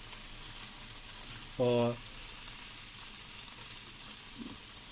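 Onion tossed into a pan of tofu scramble seasoned with turmeric and regular salt, giving a steady close frying hiss throughout, with one short spoken word over it.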